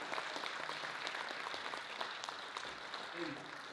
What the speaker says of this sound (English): Let's give her a giant round of applause.